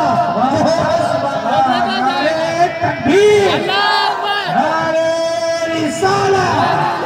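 A large crowd chants religious slogans in loud unison, answering a leader's calls at a religious gathering with Hazrat Gazali Miyan; repeated sustained shouted phrases rise and fall over several seconds, mixed with cries and cheering.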